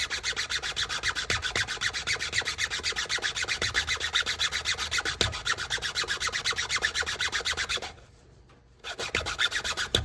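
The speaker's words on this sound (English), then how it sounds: "You can spin your file because your file will get clogged up with wood dust." Wood rasp file shaping a wooden self bow, a close rhythmic rasping stroke repeated steadily for many seconds, with a brief pause before the filing resumes.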